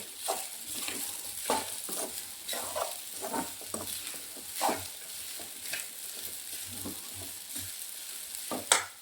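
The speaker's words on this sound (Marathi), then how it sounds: "शाबू घातल्यावर थोडं हलवायचं" Sago pearls stirred in a pan with roasted chillies, giving a sustained frying sizzle broken by repeated soft scraping strokes of a spoon through the pearls, fairly quiet and close, with no talking.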